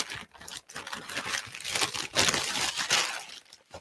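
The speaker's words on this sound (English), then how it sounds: "Got some bubble wrap. I got a plastic bag." Bubble wrap and a plastic bag being handled and crumpled, a continuous close crinkling and rustling with irregular crackles, fairly quiet, no talking.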